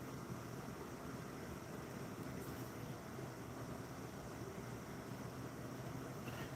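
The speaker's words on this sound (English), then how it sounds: "It's actually the water coming through the downpipe." Water rushing through a downpipe makes a steady, broad roar like a distant jet. It holds at a constant level throughout with no breaks and no voices.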